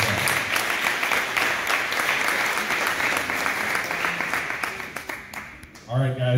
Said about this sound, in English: one more round of applause, please, for the players